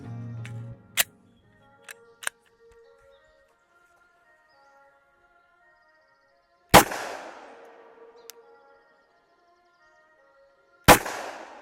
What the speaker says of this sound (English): Glock 21 with some giant hollow point bullets.